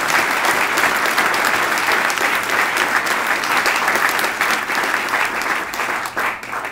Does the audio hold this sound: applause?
yes